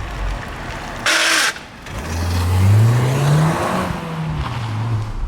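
Ford Fiesta ST accelerating hard from a stop, wheels spinning briefly before the engine note climbs steadily and loudly through the revs, heard from inside the car.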